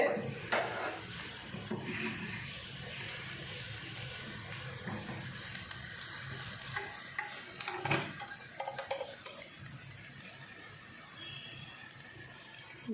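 Cluster beans (gorikayi) fry in a pan while being stirred, giving a steady close sizzle with occasional scraping clinks of the spoon and no talking.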